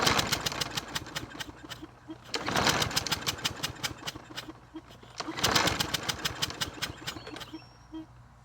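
A Snapper 625ex 150cc lawn mower engine runs unevenly at close range, with rapid chugging pulses and two swelling surges in revs.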